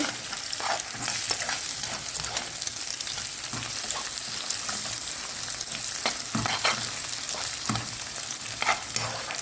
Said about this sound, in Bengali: এই যে ডিমটা দিয়ে দিচ্ছি এখন ভালো করে ডিমটা ভাজা ভাজা করে নেব